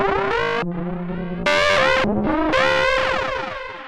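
A Korg Mono/Poly synthesizer patch run through effects, playing a bright, buzzy, distorted sequence of sustained notes that jump in pitch, with chorus-like shimmer and a fading echo tail.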